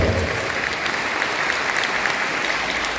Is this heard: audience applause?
yes